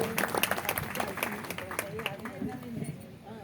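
Audience applauding the singers and accompanists at a Ram Mandir devotional music program, steady crowd clapping mixed with a voice talking over it throughout.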